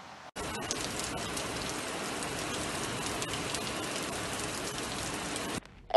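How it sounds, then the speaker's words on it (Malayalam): Steady heavy rain falls across the UAE, covering places such as Sharjah, Ajman and Dubai, a dense, constant hiss of drops on surfaces that stays loud and even for about five seconds before cutting off. "ഷാർജ അജ്മാൻ ദുബായ് അടക്കമുള്ള രാജ്യത്തിന്റെ ഒട്ടുമിക്ക എമിറേറ്റുകളിലും ഇന്ന് മഴ പെയ്തു"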